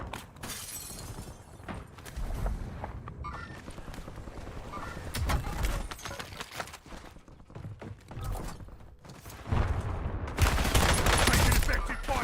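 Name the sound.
gunfire in a video game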